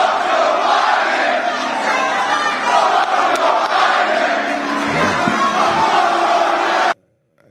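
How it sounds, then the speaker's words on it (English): A large crowd at a Trump rally yelling and chanting continuously, a loud roaring mass of voices that runs steadily until it cuts off abruptly near the end. "people were yelling F Biden also"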